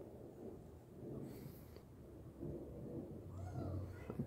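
Thunder from a close lightning strike in a thunderstorm rolls as a low, fairly faint rumble that swells and lingers, with light rain noise in the background.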